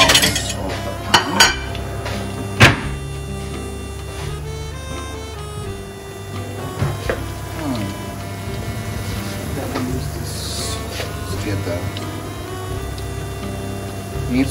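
Akara bean cakes being lifted out of a frying pan into bowls, with scattered metallic clinks and clatters of utensils against the pan and dishes over a low background hum of frying.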